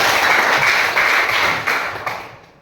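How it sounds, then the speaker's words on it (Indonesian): A classroom of students claps hands together in a dense, loud burst that fades out near the end, with no talking over it. "berikan tepuk tangan"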